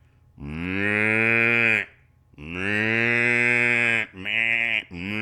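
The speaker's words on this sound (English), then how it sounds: "Cows were mooing." Three long, loud cow moos in a row in a video game, the first two drawn out and the last shorter, with brief pauses between them.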